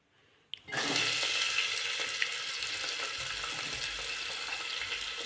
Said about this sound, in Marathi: तेल तापलं मोहरी छान टाकलेला आहे आता आपण ह्या भाज्या टाकणार